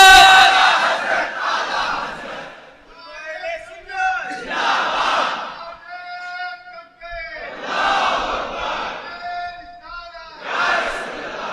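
A large crowd roars religious slogans in unison at a religious gathering, answering a lone speaker's calls in loud alternating bursts that swell and fade several times.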